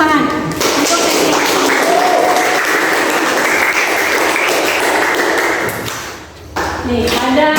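A classroom of students breaks into applause after a lesson segment, loud and close, a busy wash of clapping with a few sharp ringing tones mixed in, dipping briefly before resuming.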